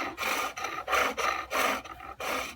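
Gouge shaving green wood on a foot-powered pole lathe while turning a garden dibber: rhythmic rasping cuts in about five bursts, each stroke followed by a short pause as the lathe reverses, close and clear with no talking.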